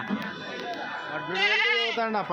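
Goats bleating at a busy weekly livestock market in Kadiri, several loud wavering cries rising over a constant hum of crowd chatter close by.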